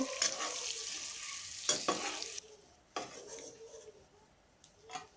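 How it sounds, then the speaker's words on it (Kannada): Egg masala sizzles softly in a pan as a spoon scrapes and stirs it, with a few clinks of metal against the pan, quiet and close with pauses between strokes. "ಈ ರೀತಿ ಎಲ್ಲವನ್ನು ಚೆನ್ನಾಗಿ ಫ್ರೈ ಮಾಡ್ಕೋಬೇಕಾಗುತ್ತೆ"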